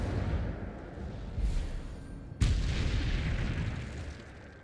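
Incendio fire spell cast in Hogwarts Legacy, a sudden loud burst like an explosion that breaks into a roaring, crackling wash of flame, preceded by a softer whoosh.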